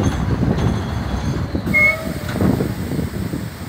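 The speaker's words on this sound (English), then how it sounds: "R32 A-Train now departing 88th Street." An R32 subway train on the New York City A line pulls away from 88th Street in snowy conditions, a loud, close, steady rumble of wheels and cars with a brief squeal partway through and no voices.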